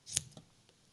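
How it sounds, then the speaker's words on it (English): Sharp Clover patchwork scissors snip through yarn to trim a pom-pom, one crisp close cut followed by a fainter second snip in near silence. "these patchwork scissors from Clover are fantastic for pom-poms"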